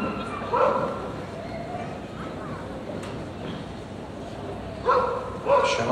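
A dog barks during an agility team final, a few sharp yips standing out at the start and again near the end over the hubbub of a crowd and a commentator talking.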